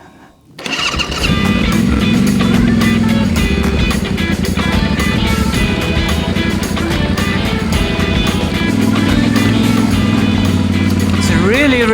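A Yamaha Tenere 700 motorcycle rides a rocky off-road path, its engine droning loud and steady throughout. The pitch rises slightly near the end as the bike revs, with wind and rough-terrain rumble mixed in.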